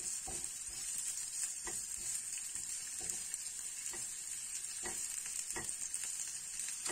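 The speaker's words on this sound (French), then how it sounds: "Alors déjà, on va faire dorer nos oignons, sans les faire brûler, bien sûr." Onions browning in hot oil in a pan give a steady, close sizzle throughout, with occasional soft knocks and scrapes from stirring and no voices.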